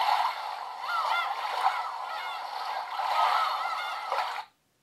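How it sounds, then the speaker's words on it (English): A Holife digital alarm clock plays its beach alarm tone, a steady wash of surf with faint gull-like cries over it, continuing for about four seconds before cutting off abruptly into silence. "Sound of the beach."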